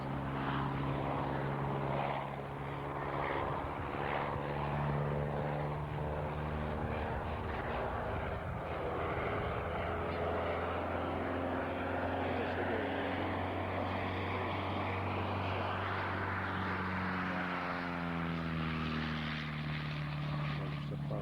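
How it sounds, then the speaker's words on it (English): An Auster propeller plane performs at an ag-reunion air display, its engine a loud, continuous drone whose pitch sweeps up and down as it manoeuvres and rolls, close and unbroken for the whole stretch with no talk. "Looks like a very manoeuvrable and solid looking aircraft."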